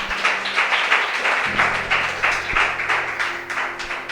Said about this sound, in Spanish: Yo le diera un aplauso al Señor por eso